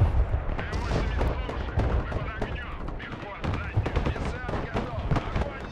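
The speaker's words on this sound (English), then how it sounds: "that ballistic missile just spiked us" A ballistic missile strike in the Broken Arrow military strategy game brings heavy, continuous battlefield booms and rattling gunfire-like blasts. The loud, dense impacts run for several seconds, with some talk mixed in.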